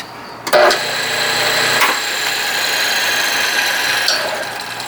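Repaired electric motor of a bone-cutting saw running steadily after startup, a constant whirring hum with a brief clunk at the start, close and fairly loud.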